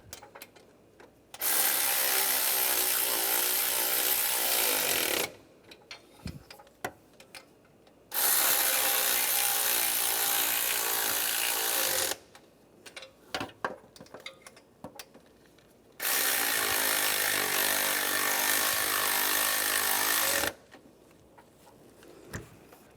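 A ratchet wrench tightens the knock sensor nuts on a 2010-2016 Cadillac SRX engine, making three long bursts of rapid, loud clicking separated by pauses with faint handling noises, close up and without speech.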